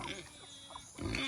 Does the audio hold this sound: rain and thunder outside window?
no